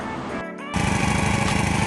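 A brush cutter engine driving a 1.5-inch centrifugal water pump on a 28 mm shaft: a brief dip, then a loud, close, steady buzzing drone that runs without pause.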